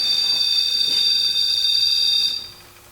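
A loud, steady high-pitched electronic tone from a ghost-hunting device during a home paranormal investigation, holding for over two seconds before cutting off abruptly, with no talking.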